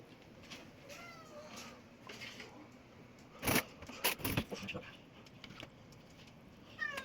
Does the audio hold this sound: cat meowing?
yes